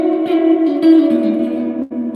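Electric guitar through a Fender Twin Reverb amp's spring reverb, sustained chords ringing with a wet, echoing tail, loud and close, changing chord near the end.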